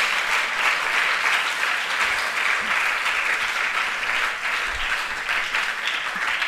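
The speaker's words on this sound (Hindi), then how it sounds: "इसलिए तालियों में कमी नहीं होनी चाहिए" Sustained applause from an audience, dense steady clapping that continues throughout without letting up, with no speech over it.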